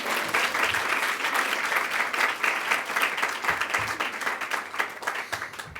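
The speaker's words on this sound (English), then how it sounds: "give them a round of applause." Audience at a NEW Leadership NJ keynote address breaks into sustained applause, a dense, loud wash of many hands clapping that holds steady throughout with a few sharper individual claps standing out.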